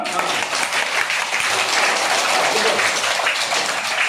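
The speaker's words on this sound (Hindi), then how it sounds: "ताली बजा दो" Children in a primary school classroom clap together in a dense, steady burst of applause, loud and continuous throughout with some faint voices mixed in.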